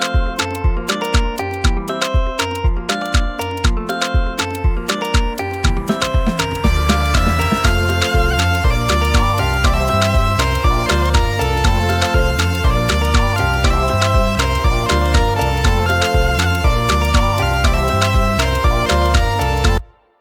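Gospel makossa praise instrumental with a layered synth lead riding over full backing instruments, loud and steady; sparse punchy hits open the first seconds before the dense, rhythmic groove fills in and runs to an abrupt stop, no voices.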